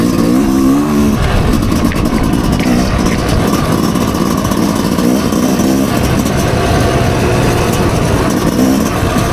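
A 2023 Yamaha YZ250X two-stroke enduro bike on a first break-in ride, its engine loud and close, buzzing and revving continuously with rising and falling pitch.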